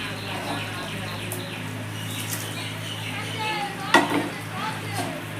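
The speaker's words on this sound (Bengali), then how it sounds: "ঝোলের মধ্যে আমি মাছ দিয়ে দিয়েছি, এবার ঝোলটা কিছুক্ষণ ফুটবে" Fish pieces drop into a simmering Bengali-style fish curry with potatoes, giving a steady low bubbling and sizzle, a soft splash and clink around the middle, and faint birdsong outdoors.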